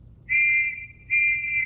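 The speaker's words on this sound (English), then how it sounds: "we'll blow a whistle first to warn you so that you have time to take cover" Two sharp, high-pitched First World War warning whistle blasts, each lasting about half a second with a short gap between them, sounding loud and close over a quiet background.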